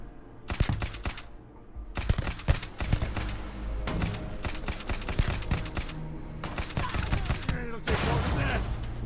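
Grenade blast and gunfire in the Starfield shooter: dense, loud rattling volleys of shots with heavy booming low rumble, broken by brief pauses, continuing nearly without letup.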